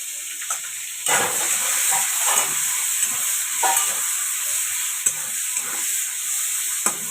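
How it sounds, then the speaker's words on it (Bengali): Sliced onions sizzle in hot oil left over from frying crab, a steady hiss with scattered clicks and scrapes from stirring; close and continuous, with no talking. "এর মধ্যে আমি দিয়ে দেবো, এই তেলটার মধ্যেই দিয়ে দেবো পেঁয়াজ শুকানো।"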